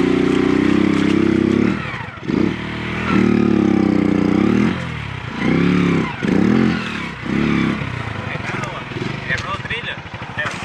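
A motorcycle rides a muddy stretch of the BR-319 highway in winter, its engine surging and dropping in repeated bursts under continuous nearby talk.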